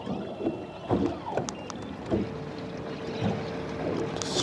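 Wake from passing boats slaps and knocks against a small fishing boat on a busy stretch of water, a few hollow thumps spaced irregularly over wind noise.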